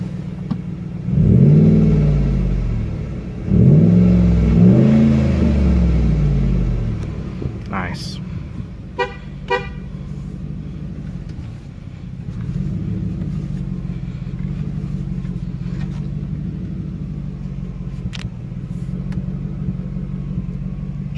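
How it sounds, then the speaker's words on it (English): A 1999 Ford Taurus SHO V8 revs loudly while driving, its throaty engine surging twice before settling into a steady cruising drone, with brief clicks partway through. "Hear that throaty V8."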